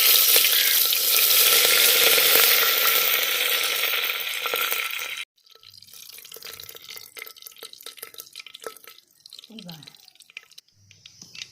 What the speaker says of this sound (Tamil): கடுகு போட்ட உடனே கடுகு பொரிஞ்சிச்சு, கருவேப்பிலை இப்படி கிள்ளி போடணும்.